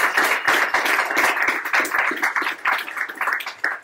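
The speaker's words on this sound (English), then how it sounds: "So please give a big round of applause to all of our different panelists today." Audience applause for conference panelists at a cryptocurrency event in Barcelona: dense, steady clapping from a room full of people, loud and close, continuing throughout with no voices over it.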